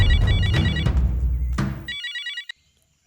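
A telephone ringtone chirps in repeating electronic bursts over busy background noise, which suddenly drops away, leaving a final ring in near silence.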